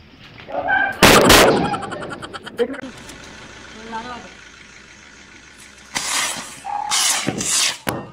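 Diwali firecrackers burst in sharp, loud bangs outdoors: one big crack near the start, then a cluster of pops toward the end, with voices talking faintly between them.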